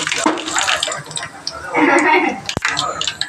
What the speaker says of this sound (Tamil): கொஞ்சமாக எண்ணெய் ஊற்றிருக்கேன் கடுகு போட்டுக்குவோம்